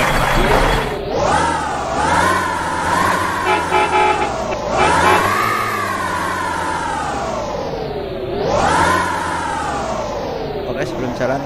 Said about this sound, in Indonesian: Ini adalah Mod Evolander HDD dari Mistadul. Oke, ini free. Ini suaranya